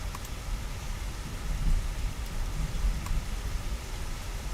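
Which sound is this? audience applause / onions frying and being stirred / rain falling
rain falling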